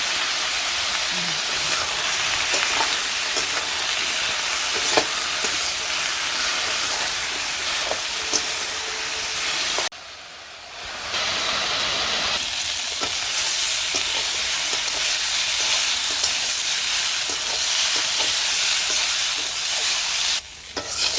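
Vegetables frying in a pan with green chillies, turmeric and chilli powder give a steady, close hiss and sizzle, broken by a short quieter gap midway before the frying noise resumes.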